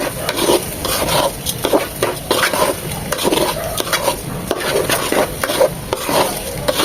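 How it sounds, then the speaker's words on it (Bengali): Rice and mung dal being fried with spices in a pan for beef khichuri, heard as continuous near sizzling with repeated scraping stirs and light clinks of a utensil against the pan, no voices. "চাল আর ডাল খুব ভালোভাবে তিন থেকে চার মিনিট ভেজে নেব মশলার সাথে"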